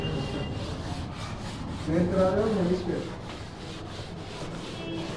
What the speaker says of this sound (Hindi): चलिए इसको रब करें